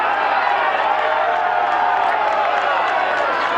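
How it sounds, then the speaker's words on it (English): Supporters' crowd at a 2009 OHA versus DER grand-final field hockey match roars in a steady, dense wash of cheering and shouting, loud and continuous throughout with no clear breaks. "this crowd getting more vocal by the second"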